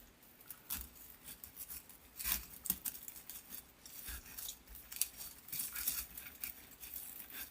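Scissors snip through moss for an Easter wreath base, a series of crisp, close cuts and rustles in an irregular rhythm, heard alone without talk.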